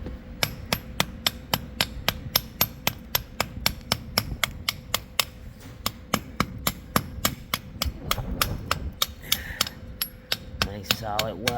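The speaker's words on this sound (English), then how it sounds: "Now we're just gonna chip it, scrape it, and grind it so that it fits the size of that." Hammer chipping slag off a fresh two-pass steel weld, a long run of sharp metallic taps repeating at a quick, fairly steady pace, close and loud, with a little scraping toward the end.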